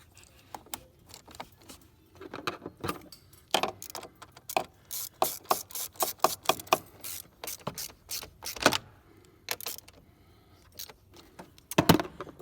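A ratchet wrench clicks in quick bursts while tightening a car battery terminal on a 2016-2018 Kia Sorento V6, with crisp close ratcheting runs separated by short pauses and a few sharper metallic knocks.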